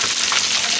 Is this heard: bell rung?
no